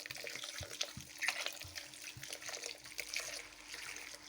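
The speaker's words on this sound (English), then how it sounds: "adding more cider just to cover the meat over" Cider pours steadily into a slow cooker over venison and plums, a quiet continuous trickle and splash with small drips and light knocks. No one speaks.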